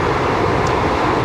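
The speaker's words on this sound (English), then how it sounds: "this is the noisiest train I've been on in a long time" Loud, constant rumbling roar inside a train carriage travelling from Malaysia toward Thailand, a dense broadband rattle with no letup and no voices.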